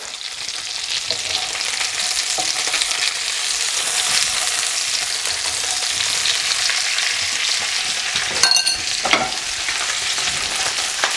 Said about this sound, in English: I'm just going to flip them over so you can cook on that side